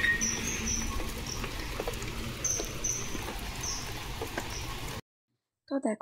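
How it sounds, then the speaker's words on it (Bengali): Rain falls outside on a wet morning as a soft, uneven patter with scattered drips and a few faint high chirps, heard at moderate distance before a sudden silence. "সেই সকাল থেকে বৃষ্টি হয়েই যাচ্ছে।"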